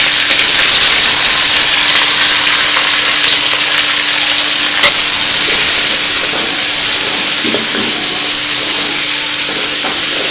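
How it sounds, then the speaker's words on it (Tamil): Onions sauté in a pan for kovakkai poriyal, a loud, close, continuous sizzle and hiss with occasional soft stirring scrapes and no talking. "ஆனியன் வந்து ரொம்ப வதங்க வேண்டாம், ஒரு பாதி வதங்கினா போதும்"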